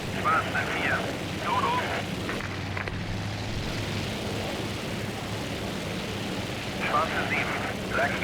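Jet aircraft engines roar steadily on an automatic takeoff during a video game fighter-operations mission, a loud continuous broadband rush lasting throughout with slight swells near the start and end.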